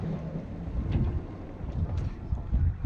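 A Dufour 375 GL sailboat under sail on the sea near Collioure, heard as steady low wind rumble against the microphone with rushing water and hull wash, no clear voices.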